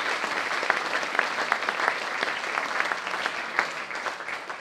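Audience applause for a baritone saxophonist at a live jazz orchestra concert, a steady wash of many hands clapping with sharper individual claps popping out, sustained throughout.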